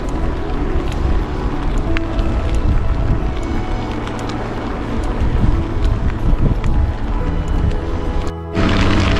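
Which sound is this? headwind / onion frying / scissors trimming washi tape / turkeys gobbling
headwind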